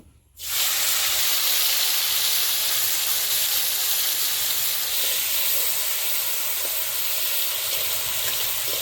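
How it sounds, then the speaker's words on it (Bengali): Prawns frying in hot oil in a Bengali home kitchen, a loud, dense sizzle that bursts in suddenly and holds steady, hissing without pause. "এখন চিংড়ি মাছগুলো ভেজে নিব।"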